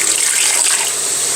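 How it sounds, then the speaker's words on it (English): Water pours steadily into a pot of beans, a continuous bright rush that stays loud and close from start to finish with no talking. "So cover it up with water really good"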